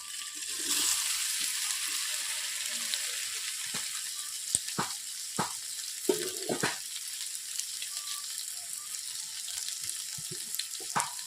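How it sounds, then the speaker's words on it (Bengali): Paneer cubes fry in hot oil in a wok with a steady, bright sizzle throughout, broken by scattered taps and scrapes of a spatula stirring, close and continuous. "দেখতেই পাচ্ছেন বন্ধুরা, আমি পনিরগুলো কেমনভাবে ভাজছি।"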